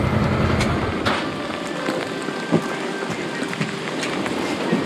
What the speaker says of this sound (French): ça pleut fort